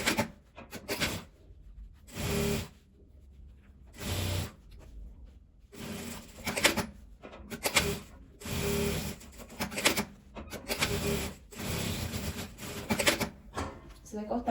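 A sewing machine stitching fabric scraps for a patchwork glasses case, running in short repeated bursts of about a second each with brief pauses between, fairly close.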